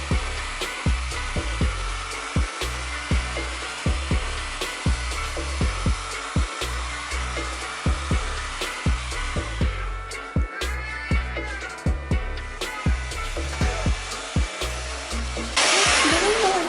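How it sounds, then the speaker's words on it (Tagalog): A heat gun blows hot air in a steady whirring hiss while wrapping is smoothed onto industrial shelves, broken by regular soft thumps and handling noises, fairly close, with no talking. "kailangan natin itong i-blower gamit ang heat gun."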